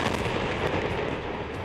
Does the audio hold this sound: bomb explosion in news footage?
yes